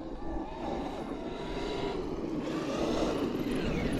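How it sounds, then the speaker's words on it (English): Traxxas RC car on an 8S battery at full throttle turning on grass, a loud continuous high-pitched motor whine that swells toward the end. "Full throttle into a damn turn on the grass."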